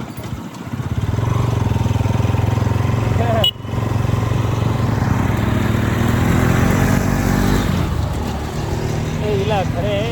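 A motorbike engine running close by at a fairground festival, a loud steady drone with a brief dip in the middle, rumbling on under nearby voices.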